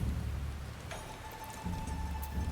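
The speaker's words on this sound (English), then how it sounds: "It's raining again." A soft, steady wash of rain in Final Fantasy XIV hisses quietly throughout, with a low rumbling undertone and a faint tonal chime entering partway through.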